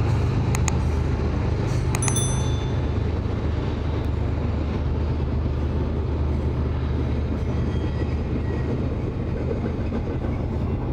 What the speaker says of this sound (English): Gotta love those trains.